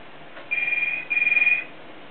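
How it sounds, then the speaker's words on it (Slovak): A telephone rings twice in a quiet room, two bright trilling bursts separated by a short pause. "Telefón."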